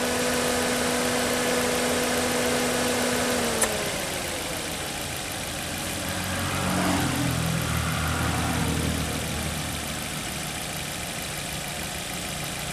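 A car engine idles with the air conditioning running, giving a steady low mechanical hum with a whine. Its tone drops and shifts partway through as the load changes, and the idle stays close and continuous with no talking.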